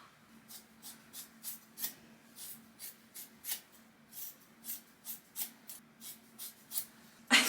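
Scissors snip through hair during a home haircut, about twenty crisp, close cuts in a steady irregular rhythm with no talking, ending in a brief louder rustle.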